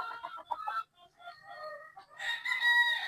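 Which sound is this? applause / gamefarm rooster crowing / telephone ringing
gamefarm rooster crowing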